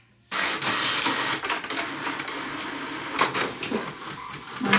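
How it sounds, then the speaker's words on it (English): An HP Envy Pro inkjet printer starts up and runs a print job, a close, continuous mechanical whir with shifting clicks and feed noises throughout. "My trusty printer works"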